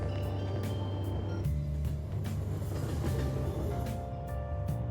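A train moves along in Persona 5 Royal, giving a steady loud rumble with rhythmic rail clatter and brief higher squeals, no talk over it.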